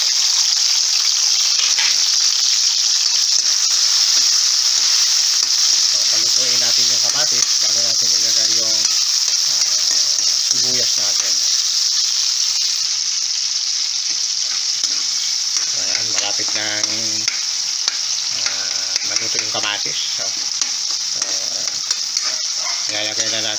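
Tomato hits hot oil with garlic and sets off a loud, steady sizzle that goes on throughout, with stirring scrapes and rhythmic rasping strokes in clusters over the frying.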